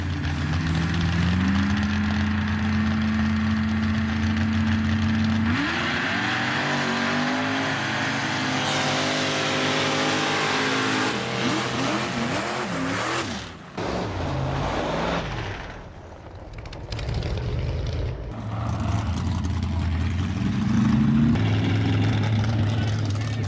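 Ford and Chevy mega trucks Pit Bully and Mistress racing at a mega truck event, a loud continuous roar of big engines revving and accelerating, the pitch sweeping up and down with a brief dip midway and voices faintly mixed in.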